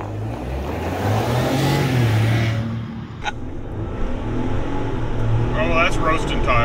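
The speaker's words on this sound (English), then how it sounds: "Oh, that's roasting tires." A Ford Bronco Wildtrak with 315 horsepower and 410 lb-ft of torque accelerates hard, its engine droning loud and steady while tires roar, with excited voices talking throughout.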